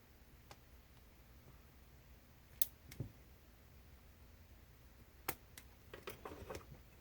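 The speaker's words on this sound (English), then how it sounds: "So we're just going to snip these out of here." Plastic model parts being cut from a sprue with nippers: a few sharp, isolated snips and clicks with light handling rustle between them, close and quiet, no speech.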